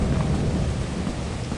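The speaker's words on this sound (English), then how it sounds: "It's stormy." Stormy weather in a video game, with steady rain and rumbling thunder filling the scene at close, loud level and no voices over it.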